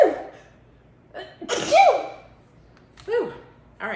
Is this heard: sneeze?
yes